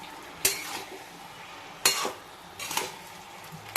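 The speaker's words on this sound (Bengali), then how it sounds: "মিষ্টিটা দিয়ে নেড়ে আবার একটু গ্যাসটা কমিয়ে ঢাকা দিয়ে দেবো" A spoon scrapes and clinks through a vegetarian cabbage curry with green peas and coriander in a pan, just after sugar goes in. Three or four distinct stirring strokes sound close up against a quiet low background.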